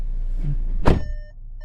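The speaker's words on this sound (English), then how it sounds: "listen to this door" A single solid thud of a car door shutting, heavy and close, followed by a quiet interior hum and a few soft electronic tones.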